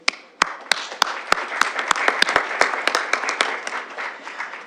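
Applause at a city council committee meeting in a hall, a modest group clapping with distinct sharp individual claps, loud and near, that thins out toward the end.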